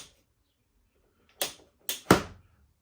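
A Hot Toys DeLorean scale model door ratchets through three quick, small plastic clicks, close and quiet, in a still room.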